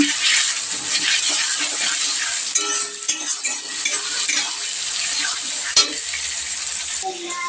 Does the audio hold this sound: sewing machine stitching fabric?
no